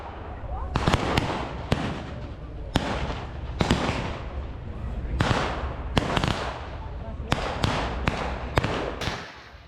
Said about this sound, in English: with plenty of pyrotechnics for everyone